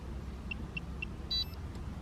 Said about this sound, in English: Get a few little beeps there just to confirm that we're good to go.